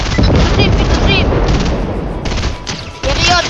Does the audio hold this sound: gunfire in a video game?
yes